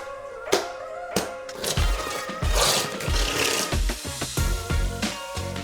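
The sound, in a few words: trowel spreading tile adhesive on floor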